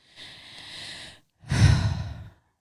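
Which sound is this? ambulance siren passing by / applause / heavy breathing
heavy breathing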